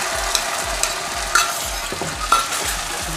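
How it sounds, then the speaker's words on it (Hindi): Tomato gravy is stirred into golden-brown onions frying for Punjabi-style rajma masala, with a steady sizzle and regular scraping strokes of a spoon against the pan, close and without talk. "अब हम इसमें ये जो हमने टमाटर की ग्रेवी बनाई थी इसको डाल देते हैं,"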